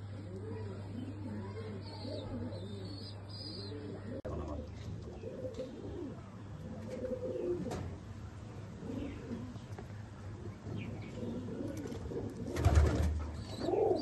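Pigeons for sale coo in soft, repeated rolling calls, near and moderately loud over a low steady hum, with a brief sharper knock near the end.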